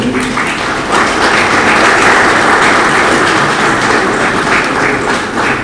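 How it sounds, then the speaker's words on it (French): Audience applause for a student named Caleb at a Congolese tax-law gathering: a dense, steady wash of many hands clapping, loud and sustained throughout with no talk. "J'aimerais bien qu'on puisse applaudir pour lui."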